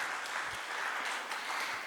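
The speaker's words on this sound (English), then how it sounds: "Please round of applause for our keynote speaker." Audience applause for a keynote speaker at a REITs real estate conference, a steady, dense wash of many hands clapping throughout, fairly loud and continuous with no voices over it.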